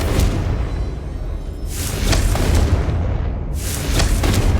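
Heavy explosive blasts from the Confringo curse in Hogwarts Legacy, several deep booming bursts in succession with crackling high debris, loud and close.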